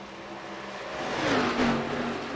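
NASCAR Xfinity Series stock cars race at Auto Club, their engines building to a loud passing roar that rises and falls in pitch as the pack sweeps by.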